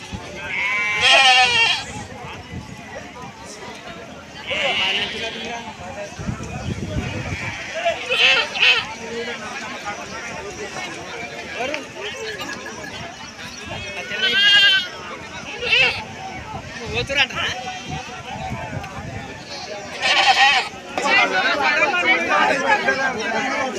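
Goats bleat at a busy Wednesday village livestock market, with several loud nearby cries scattered among the crowd while people bargain and chatter throughout.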